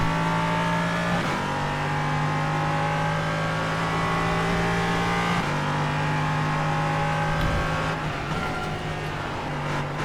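Race cars lapping Suzuka in iRacing, a steady loud engine drone with sustained tonal whine that shifts pitch at gear changes and as other cars pass, continuous with no talk.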